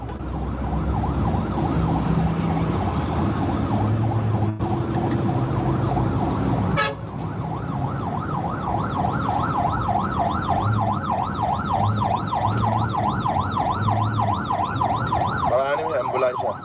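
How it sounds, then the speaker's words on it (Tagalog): An ambulance siren wails loudly and continuously, its pitch sweeping rapidly up and down in a fast yelp pattern and switching to a smoother rising and falling wail partway through, with faint voices and a horn toot beneath. "Paraanin mo yung ambulansya."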